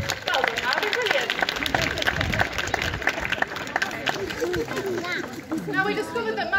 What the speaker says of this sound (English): So please give him a massive round of applause